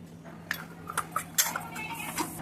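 A spoon clinks against a bowl in light, irregular taps while jowar, wheat, gram and rice flours are mixed together for Maharashtrian thalipeeth, over a quiet kitchen background.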